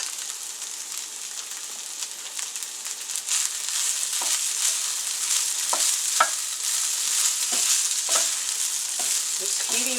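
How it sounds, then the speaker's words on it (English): Rice and peas for shrimp fried rice sizzle and crackle steadily as they are stir-fried in a hot pan, with occasional scraping clicks from stirring, fairly close and without speech. "Just heating up the rice at this point. Heating it up, heating up the peas."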